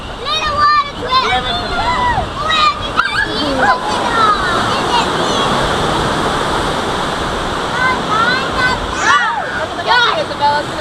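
Water rushing and sloshing around a raft on the Kali River Rapids ride at Disney's Animal Kingdom, a continuous loud splashing roar with excited children's voices and chatter over it.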